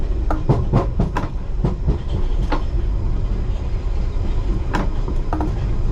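From the cab, a London Underground train runs west to east near Hounslow Central, wheels clicking sharply over rail joints in quick bursts, then settling into a steady rumble.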